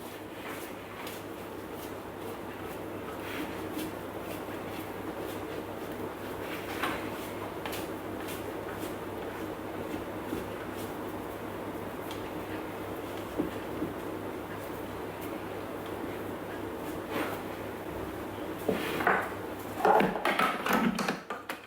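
A Thermomix kneads chocolate sourdough dough with a low, steady motor hum and scattered soft knocks and taps, which grow busier and louder toward the end.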